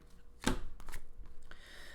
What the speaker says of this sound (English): Sometimes I just like to shuffle a lot, just to make sure.